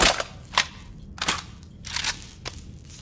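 Sharp, close gunshots ring out from a gun in the video game Cyberpunk 2077, five or so spaced single cracks over a few seconds, each with a brief bright tail, loud and free of talking.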